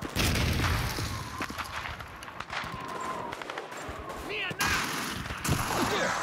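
Grenade blast and rattling gunfire in the World War II shooter Call of Duty 2, a dense continuous barrage of shots and booms with German-speaking soldiers shouting over the din.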